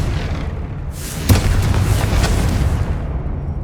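A Confringo blasting spell explodes in Hogwarts Legacy, a loud booming blast with a sharp crack and rumbling tail over steady background noise, no talk.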